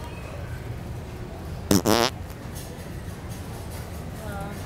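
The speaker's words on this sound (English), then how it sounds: "A little fart? Just a little one, yeah." A prank fart device lets out one short, loud, raspy fart noise in a busy Walmart store, a buzzing burst of under half a second over steady background store hum.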